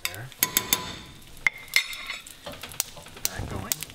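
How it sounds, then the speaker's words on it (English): A spoon stirs a jam and water mixture in a pan for French toast, with scattered clinks and scrapes against the metal over a soft background sizzle. "Mix that around."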